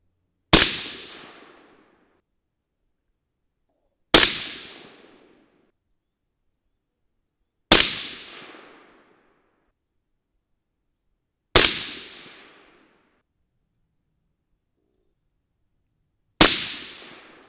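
Five sharp rifle reports from loads of 26 grains of Varget powder behind Hornady 55-grain FMJBT bullets ring out alone at even intervals of about four seconds, each a loud crack with a short decaying tail.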